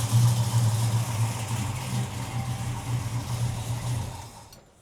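A Dodge Charger engine runs close by after an alternator replacement, with a steady low idle hum and a light touch of throttle that swells slightly before fading at the end. No one talks.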